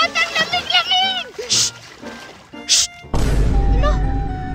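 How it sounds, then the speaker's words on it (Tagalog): Sea bathing at a beach, with loud close splashes and crashing water right after a burst of playful children's squeals and chatter. "Ang sarap talaga maligo dito sa dagat."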